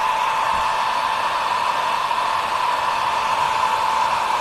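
Heat tool blowing continuously to dry a junk journal piece, a loud, steady, close airy roar with a fixed pitch and no breaks or talking.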